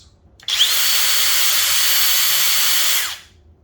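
Flex impact driver running at speed 3, a loud steady high-pitched whir lasting about two and a half seconds with an abrupt start and a quick wind-down, heard close and alone.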